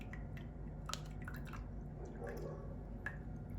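Strained Otaheite apple drink drips from a strainer into a container, giving soft, faint, irregular drips and small splashes close by in a quiet setting.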